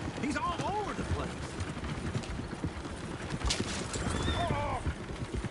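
Horses running in a video game, with clip-clop hoofbeats and several whinnies over a busy background of game noise and people talking.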